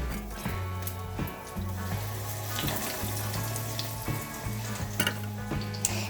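Scotch eggs frying in hot oil, a steady close sizzle and crackle with occasional louder pops, running continuously without talk.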